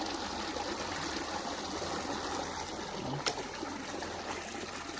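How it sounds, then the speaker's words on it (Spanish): An outdoor stream of water flows with a steady, soft trickling babble, fairly faint and continuous, with one brief knock partway through. "Golea, pero hay mucha agua, Golea."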